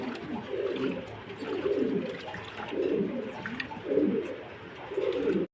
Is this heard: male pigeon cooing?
yes